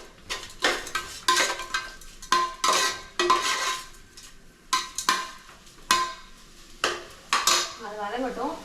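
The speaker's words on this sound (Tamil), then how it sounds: "அது வதங்கட்டும்." Ingredients for a mutton curry sautéing in a pan: sharp intermittent clanks and scrapes of a spoon against the metal pan in bursts, with a faint sizzle underneath and no talk.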